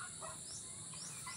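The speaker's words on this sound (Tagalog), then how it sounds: "Parang walang mga manok pero nandito sila pala, oh." Backyard chickens hidden among banana plants, clucking softly now and then over a steady outdoor hiss of insects and ambience.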